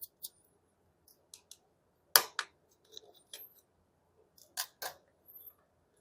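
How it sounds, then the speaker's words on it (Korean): Small screws being unscrewed from the power button area of a Galaxy Z Fold 4 during a case replacement, heard as sparse, crisp, close ticks and clicks in short irregular bursts separated by near silence. "전원 버튼 나사 두 개를 틀어야 되고요."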